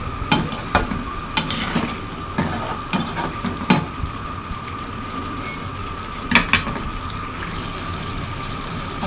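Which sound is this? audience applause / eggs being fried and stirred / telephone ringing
eggs being fried and stirred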